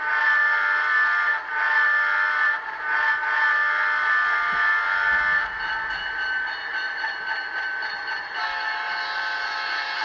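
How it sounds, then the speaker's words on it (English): An HO scale model locomotive numbered 6764 sounds its horn, a sustained electronic multi-tone blast that stays steady and loud for several seconds and shifts slightly partway through, with no voices. "here's the horn of the 6764"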